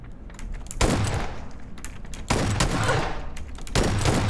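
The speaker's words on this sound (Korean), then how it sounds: "아 진짜 사이가 너무 잘 쏜다" Saiga shotgun fire in a video game, three loud broadband blasts spaced roughly 1.5 seconds apart, each followed by a sustained noisy rumble and echo with no voices.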